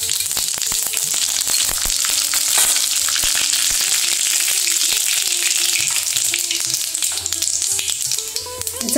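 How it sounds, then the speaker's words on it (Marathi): Mustard seeds sizzling and popping in hot oil in a wok, a dense, loud, continuous hiss peppered with sharp crackles and pops, close up with no speech. "कढईतलं तेल आता चांगलं गरम झालं आहे. त्याच्यामध्ये मी आता मोहरी टाकते."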